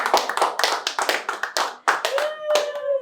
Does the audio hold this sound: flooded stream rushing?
no